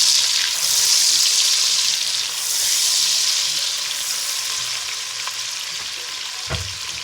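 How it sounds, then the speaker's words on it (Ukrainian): Red bell pepper stewing and frying in a pan for borscht, a continuous close hiss of sizzling oil that swells and eases, with a faint knock near the end. "кидаємо червоний перчик болгарський. Тушкуємо."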